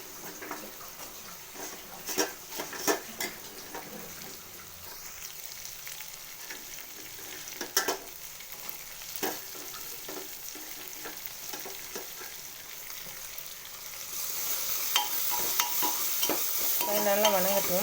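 Vegetables, meal maker soya chunks and peas stir-fry in a pan for veg biryani, a soft continuous sizzle broken by scraping stirs and occasional clinks, growing louder toward the end, with no talking.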